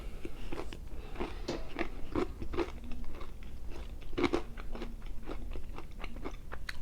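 Crunchy Popeyes fried chicken is bitten and chewed close to the mic, sharp crackling crunches in irregular bursts over a faint background hum, with no talking.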